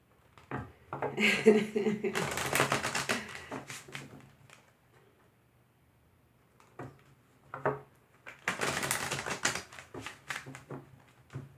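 Two bursts of crisp, papery riffling and tapping as tarot cards are shuffled close by, separated by a quiet pause with a few light taps.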